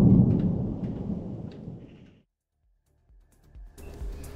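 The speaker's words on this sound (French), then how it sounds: "Les coups de tonnerre pour l'instant ils sont un peu loin" Thunder rumbles far off during a thunderstorm, a heavy low roll that fades out over two seconds, followed by near silence and then faint rain and crackle returning.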